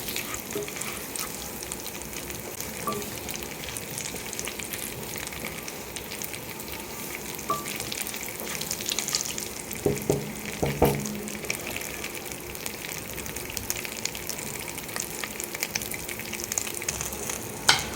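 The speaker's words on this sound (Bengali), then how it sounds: "এটাকে অল্প ভাজা ভাজা করে নেব তো" Dried red chillies, whole cumin and coriander seeds fry in oil in a pan, a low continuous crackling sizzle with occasional light pops and clinks, steady and close, with no talking.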